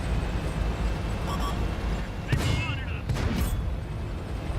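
Tank cannon shots in a tank combat video game, two sharp broadband blasts a second apart over a steady rumble of engine and battle noise, with talk running underneath.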